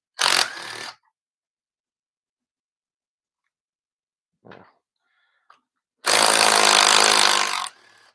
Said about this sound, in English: So we'll use a power tool to buzz these off.